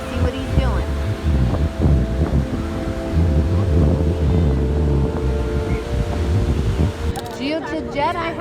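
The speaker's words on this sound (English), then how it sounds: "It's really windy, guys, so if you hear a lot of wind, that's why." Strong wind buffets the microphone on a beach, a loud continuous rumbling roar with gusts that eases off near the end.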